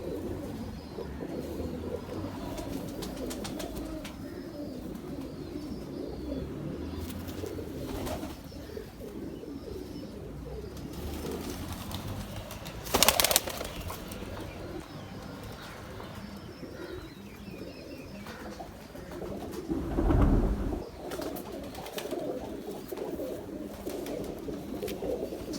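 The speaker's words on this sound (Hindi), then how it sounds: "ये बच्चा बड़े शौक से लगाया था मैंने अपना बड़ा स्लेटी कबूतर" Large grey pigeons coo softly and continuously in a loft, a low murmuring chorus heard up close, broken by a couple of brief louder flutters or knocks.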